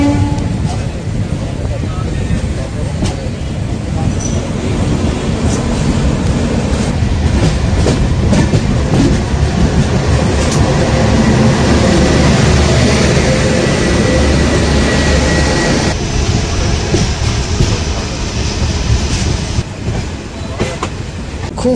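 The Sairang Express moves slowly along a loop line near Kalyani station, with a continuous, close rumble, clattering wheels and occasional squeals. A voice talks intermittently over the train noise.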